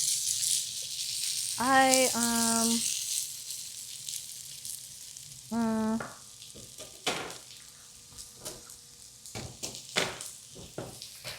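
A potato and egg scramble fries in a pan with a soft steady sizzle, interrupted by two short tonal beeps and a few clinking and scraping sounds.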